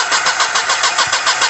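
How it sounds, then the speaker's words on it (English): Car engine cranking over without starting, the starter turning it in a loud, steady rhythmic churn with no catch, alone without talk. "So we're gonna turn the engine over to see"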